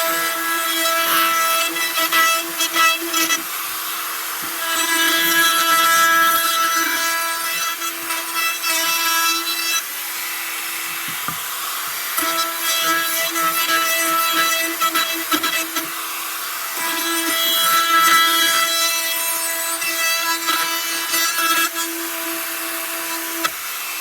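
A 1/4 inch router rounds over the edges of a wooden circle, a loud high-pitched whine with rasping cutting noise that swells and eases in passes, close by and alone.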